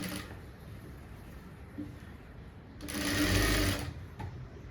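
A sewing machine stitches a blouse with a fast steady whirring hum that swells louder in a short burst near the end, close by and with no talk over it.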